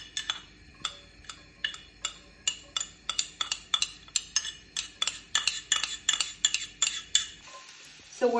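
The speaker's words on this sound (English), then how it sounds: "So where you're cooking red shallots, you want to make sure you don't overcook it." Red shallots cook in a pan over high heat while a utensil clinks steadily against the pan, giving a regular rhythm of close, crisp taps with no talking.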